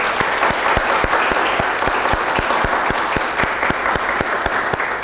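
Audience applause with a steady, rhythmic clap beat over dense crowd noise, loud and continuous throughout without any speech.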